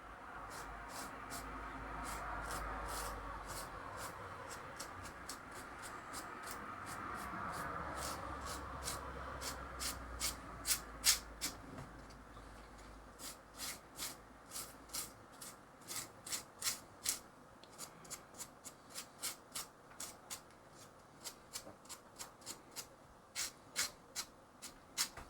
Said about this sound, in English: I'll just be painting the bases.